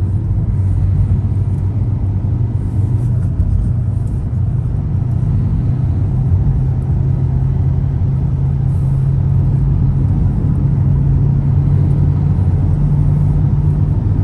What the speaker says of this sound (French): Donc le bruit de roulement, il vient de la boîte de vitesse.